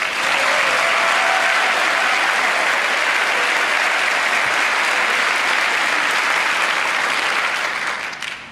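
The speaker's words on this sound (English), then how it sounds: "let's again give him a round of applause" A large audience at a community faith action assembly applauds steadily and loudly for more than eight seconds, a dense, sustained wash of clapping that fades at the very end.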